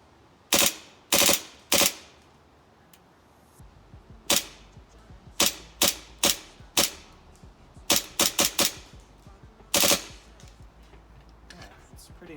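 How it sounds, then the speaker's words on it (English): An HPA-powered airsoft M9 pistol shoots 0.3 gram BBs outdoors, firing about fifteen sharp, loud cracks. They come as singles and in quick bursts of two or three, spaced over several seconds, with no talking. "I guess I'll go shoot a few rounds outside and show you what my dream gun really does"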